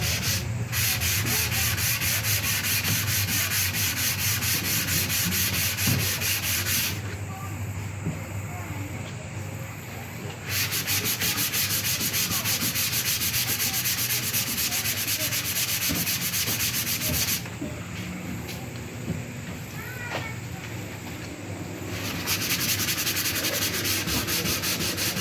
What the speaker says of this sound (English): There's better sanding blocks than that too